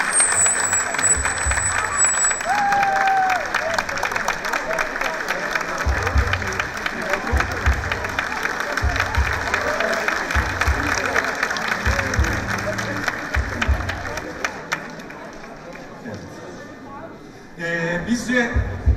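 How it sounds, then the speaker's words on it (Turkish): An audience at a teachers' singing competition final in Van claps steadily and warmly as the contestants are called on stage, a dense continuous applause with rhythmic clapping that fades out near the end as a voice comes in. "bütün yarışmacılarımızı güçlü alkışlarınızla sahneye davet ediyoruz"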